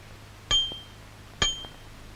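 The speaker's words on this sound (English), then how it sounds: "So every Pogle's house has a bell outside the front door." A bell outside a front door gives two bright metallic dings about a second apart. Each strike rings briefly with a faint clink after it, against a quiet, humming background.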